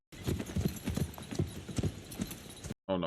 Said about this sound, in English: they're gonna be back on horses